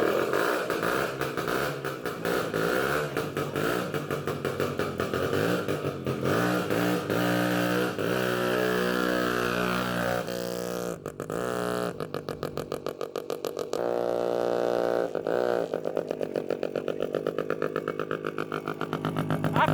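An old barn-find moped engine runs on a ride, its small motor revving up and down in uneven bursts with a rising and falling buzzy pitch, loud and close, then settling into a choppy putter.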